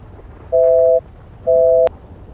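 Phone call tone in a roleplay video game: two loud, clean electronic beeps of equal length with a short gap between them, like a busy signal, over a quiet background.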